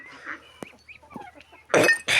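Chickens cluck and call in short scattered bursts, a few thin calls early on, then two loud, close, harsh squawking bursts near the end, with no talking.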